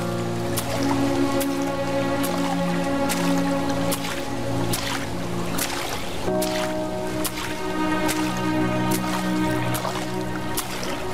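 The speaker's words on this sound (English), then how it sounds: "Been raining heavy for a couple of days, so there's some flood here and there." Heavy rain in the PC video game Cions of Vega pours steadily over sustained tonal background music, with sharp periodic ticks and drips cutting through the continuous wash.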